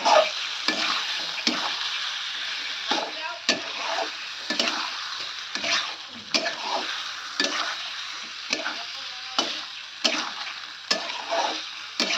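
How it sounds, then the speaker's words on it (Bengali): Chicken curry with a smooth poppy-seed spice paste sizzles steadily in a pan while a spoon stirs it, adding regular scraping knocks every second or so over the continuous frying hiss. "ঢেকে ঢেকে এটা কিন্তু চিকেনটাকে আমি কষিয়ে নেব"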